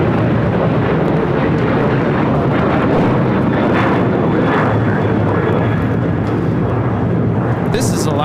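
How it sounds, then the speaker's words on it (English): Steady, dense jet roar from an Alaska Airlines Boeing 737-900ER taking off at LAX, loud and close throughout with brief higher hissing near the end and people speaking under the noise. "This is Alaska Airlines 1430, taking off to Los Cabos on a 737-900ER."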